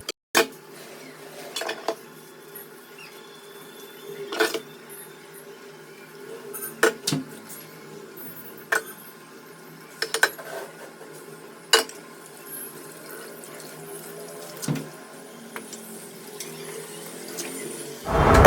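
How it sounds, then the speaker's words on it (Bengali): Dishes and small bowls being washed by hand, with scattered clinks and knocks of crockery and metal over a low background of running water, fairly close and without talk. "তো চলো বাসন কোসনগুলো মেজে ধুয়ে তারপরে আসছি"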